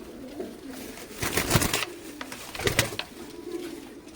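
Fancy Lakka pigeons coo in a loft, soft throaty rolling calls repeating close by in short bursts over a quiet background.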